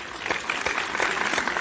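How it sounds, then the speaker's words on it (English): Brief burst of moderate applause from a lecture audience welcoming a speaker forward, steady clapping at medium distance with no talk over it. "Please give him a big round of applause."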